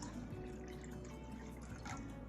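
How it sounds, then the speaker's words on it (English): Plain water trickles into a simmer pot with fruit and spices, a faint, steady pouring and dripping sound close by. "I'm just going to take some plain water and put in equal amounts."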